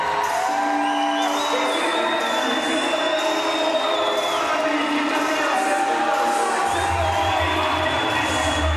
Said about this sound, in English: Takes the applause of the crowd.